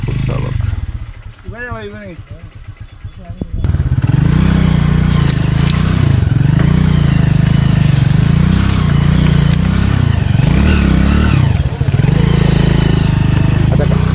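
A motorcycle engine close by revs up and down in repeated surges while stuck off-road in a tea garden, loud and steady, after a brief voice at the start.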